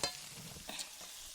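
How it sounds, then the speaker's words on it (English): Canned vegetables sautéing in a hot pan make a soft, continuous sizzle, with a few light stirring scrapes over a quiet, close background. "I'm going to saute these down first."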